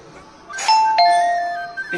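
A loud two-note doorbell ding-dong rings out close by, its tones lingering and fading over the next second, with faint voices in the background.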